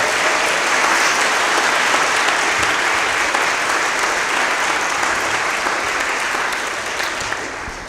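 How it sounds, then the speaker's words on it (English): A large audience applauds steadily at a career day keynote address in Darlington, a dense, sustained wash of clapping that holds for about eight seconds and eases slightly at the end, with no voices over it. "Let's give Mr. Hutchins another round of applause if we could"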